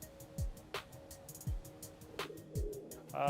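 Homing pigeons coo softly in a loft, with repeated low, throaty coos at a medium distance, occasional sharper chirps and wing or perch noises, and no talking.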